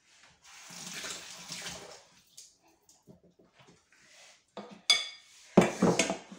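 A kitchen tap runs while something is rinsed beneath it during tartiflette preparation, with a soft hiss of flowing water, then scattered light clinks and clatters of dishes and utensils, and a few sharper knocks near the end.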